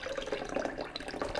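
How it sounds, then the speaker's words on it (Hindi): Water poured into blended mung dal paste for dahi bhallay, a faint, continuous trickling and sloshing with small drip-like accents, close by and with no talking. "1/2 कप हम इसके साथ पानी शामिल कर लेंगे।"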